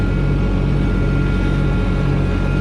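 A heavy tractor engine drones steadily at close range on a farm in France, a low rumbling idle with a constant throbbing tone and no voices.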